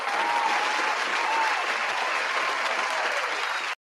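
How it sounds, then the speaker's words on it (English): A crowd claps in sustained applause, dense and even, that holds steady for several seconds and then cuts off abruptly. "So let's give this person another hand clap."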